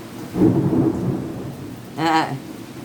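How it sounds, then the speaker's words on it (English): Deep rumbling thunder with rain, one long broad roll early on and a second swell about two seconds later, close and heavy, no voices. "Thunder."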